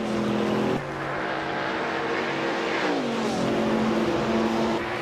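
Race cars in a racing video game roar continuously at close range, engines revving with pitch sweeps as they shift and accelerate, a dense steady drone with no talking.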